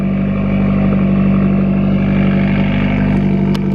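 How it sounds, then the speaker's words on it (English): Subaru WRX engine fitted with a Grimmspeed J pipe, idling with a very loud, deep, steady exhaust rumble close up, uninterrupted throughout. "The car sounds like a diesel truck now"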